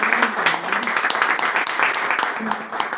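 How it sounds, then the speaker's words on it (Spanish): Steady crowd applause fills the whole stretch, a dense wash of many hands clapping at close range with no pauses. "Un aplauso también, por favor, para Pedro."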